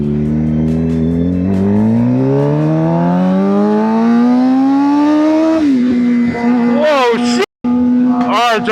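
A Suzuki GSX-R 750 motorcycle accelerates hard while being ridden, its engine note climbing through the gears with sharp revving surges and brief gaps at each shift, loud and close.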